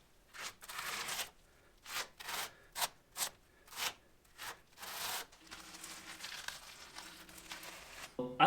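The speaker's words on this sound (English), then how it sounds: "I much prefer using a rubber foam grout trowel or whatever" A rubber foam grout trowel spreads repair material across a concrete wall in a garage service pit, making a series of rhythmic, close rubbing swipes followed by a longer continuous smear.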